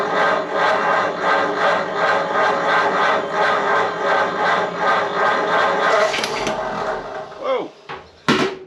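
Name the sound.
1937 Ford Taildragger engine cranking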